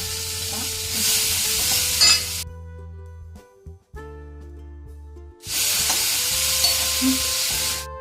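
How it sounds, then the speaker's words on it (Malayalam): Onions sauté in a hot pan with a loud, close hiss and sizzle. It stops abruptly for a few seconds, leaving a low hum and a clink, then the frying surges back just as strongly. No voices. "സവാള നന്നായിട്ട് നമുക്ക് വഴറ്റിയെടുക്കാം"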